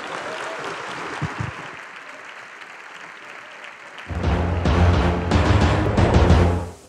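A comedy show audience applauds: a moderate patter of clapping at first, then a louder, fuller burst joined by musical tones rising partway through before cutting off.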